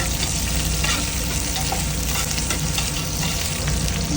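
Onion and garlic frying in cooking oil for pancit guisado, a loud, steady, close sizzle that continues without a break and carries no talking.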